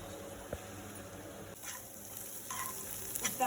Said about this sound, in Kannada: ಬರೋ ತನಕ ಸ್ವಲ್ಪ ಫ್ರೈ ಮಾಡಿ